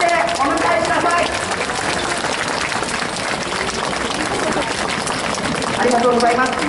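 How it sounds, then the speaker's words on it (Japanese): Crowd clapping and cheering at an outdoor election rally outside Tanashi Station as former Prime Minister Shinzo Abe arrives. The applause runs steadily throughout, mixed with amplified voices over a loudspeaker. "皆さん大きな拍手でお迎えください。"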